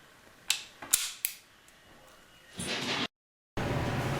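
Empty brass cases ejected from a Smith & Wesson Model 586 4-inch .357 Magnum revolver, giving three sharp metallic clinks close by, followed by a louder rattling burst.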